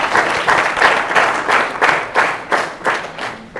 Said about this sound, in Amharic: እስቲ አጨብጭቡላቸው ለሁለቱም።